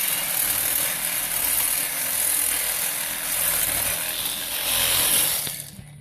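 Sawzall reciprocating saw cutting through a motorcycle exhaust pipe, a Hayabusa exhaust being shortened in a workshop; a loud, steady buzzing grind runs for about five seconds, then tapers off as the cut finishes.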